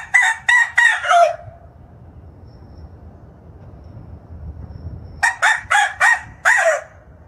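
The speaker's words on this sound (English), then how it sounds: "So instead of bird chirping, you could say like rooster crowing." An AI-generated rooster crows twice, each call a loud, close run of sharp stuttering syllables, separated by a few seconds of quiet low background hum.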